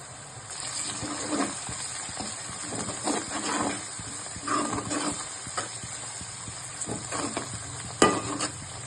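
Ginger garlic paste fries in a pan with fenugreek leaves for a tomato fenugreek curry, giving a constant sizzling hiss with intermittent stirring scrapes and one sharper clack near the end, and no voices.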